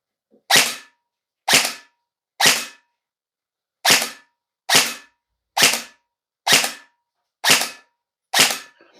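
Specna Arms Core SA-C07-PDW AEG airsoft rifle firing nine sharp single shots outdoors in an uneven rhythm, loud and close, with short pauses between shots and no voices.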